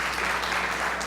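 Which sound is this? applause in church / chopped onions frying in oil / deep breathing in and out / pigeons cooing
applause in church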